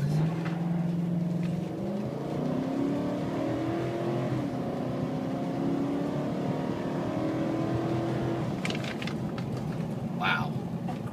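A 2005 Nissan Titan LE 4x4 pickup's engine runs steadily close by, with a smooth drone that rises slightly in pitch as it revs, then settles back near the end, with no talking.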